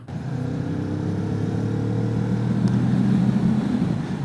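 A 2022 Kawasaki Vulcan S ABS motorcycle under way gives a steady, close engine drone with a firm low hum that swells slightly near the end as it pulls forward.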